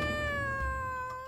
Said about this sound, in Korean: 내 반려묘를 소개하지, 치타?